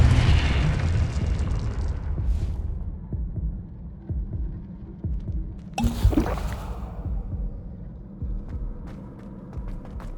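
A Confringo blast spell explodes in the Hogwarts Legacy video game: a heavy booming rumble fades out, then a sharp burst hits midway and low rolling echoes follow.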